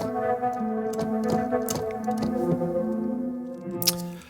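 A soft, tonal synth sample plays while a granular synth adds scattered grainy clicks and crackles on top, fairly quiet throughout.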